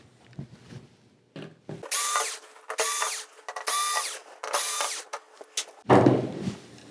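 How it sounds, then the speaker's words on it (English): An electric screwdriver takes screws out of a board in a Polaroid 43GSR4100KL TV, with five or six short, close whirring bursts and brief pauses between them, and no talk. "And let's get these screws removed."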